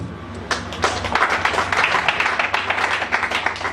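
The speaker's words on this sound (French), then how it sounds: "Il m'a demandé que l'assistance puisse adresser des applaudissements à l'endroit de Maman Fifi." An audience at an orphanage opening gives a round of applause for Maman Fifi, sharp individual claps building into a lively, uneven patter of many hands, with faint voices beneath.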